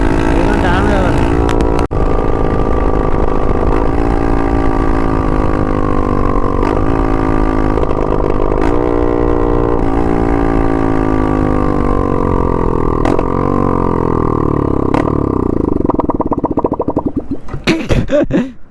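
Modified Yamaha R15 motorcycle engine and aftermarket exhaust revving loudly and continuously at close range, a steady harmonic roar with several throttle blips, fading into a brief burst of noise at the very end.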